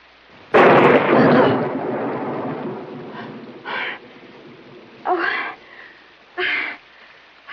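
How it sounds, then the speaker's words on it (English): Thunder crashes loudly in a burst lasting several seconds, then fades into a rumble; a few shorter, fainter rumbles follow at intervals, with no voices over them. "I'm just terrified of thunder."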